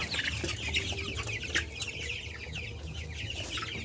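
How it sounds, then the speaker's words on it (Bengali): Chickens on a poultry farm cluck and chatter softly in a steady, low-level murmur. Occasional sharper calls poke out of the continuous background of the flock, with no talking. "এখানে মুরগিগুলো দেখালাম আপনাদের"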